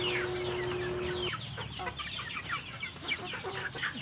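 Several chickens raised from chicks clucking and squawking as they squabble over food, a busy overlapping chorus of short calls close by, with a brief steady hum at the start.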